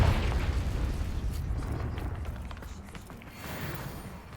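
A Confringo fire spell blast in Hogwarts Legacy gives a loud, rumbling explosion that opens strong and slowly fades into a rushing roar, with a smaller swell near the end.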